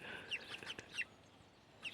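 Hens give a few short, faint clucks and chirps in a quiet outdoor setting, spaced irregularly over a couple of seconds with no talk.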